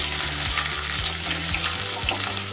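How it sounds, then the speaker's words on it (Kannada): Chopped garlic fries in a pan with a steady, loud sizzle, while a utensil scrapes and stirs in rhythmic strokes about twice a second, with no talk. "ಇದನ್ನು ಚೆನ್ನಾಗಿ ಫ್ರೈ ಮಾಡ್ಕೊಳ್ಳೋಣ."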